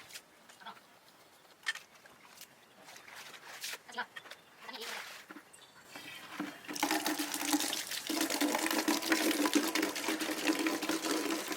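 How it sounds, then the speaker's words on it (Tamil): Goat intestines are rinsed in water, first with scattered clinks and splashes, then a continuous sloshing and swishing as they are swirled, while a person talks throughout. "அப்படியே தண்ணியில் லைட்டாக அப்படி அலசி எடுத்து கீழே வச்சுக்கலாம்"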